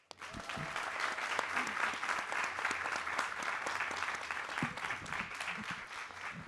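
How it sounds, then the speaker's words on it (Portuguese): Audience at a literary festival talk applauds a pair of authors, sustained even clapping from a crowd lasting several seconds after a brief start. "Por favor, palmas para esta dupla."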